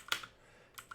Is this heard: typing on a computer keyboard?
yes